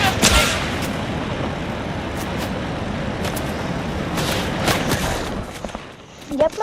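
Gunfire in Fortnite, a sharp loud shot at the start followed by scattered, more distant reports and booms over a rumbling game background, with a few more cracks near the end.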